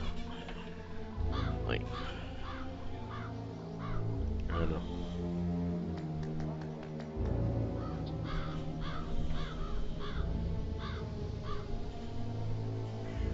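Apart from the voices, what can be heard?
crows cawing in Zombie Cranked video game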